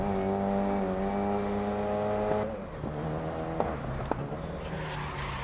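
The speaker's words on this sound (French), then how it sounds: "Je suis en plein drift." An open-wheel race car in GRID Legends drifts through a corner, its engine holding a loud steady whine before dropping, then tires squealing and scrabbling with a couple of sharp knocks.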